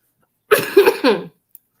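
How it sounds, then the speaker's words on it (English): A single burst of coughing, two or three harsh hacks in quick succession, close and loud against silence. "I have a bad cough."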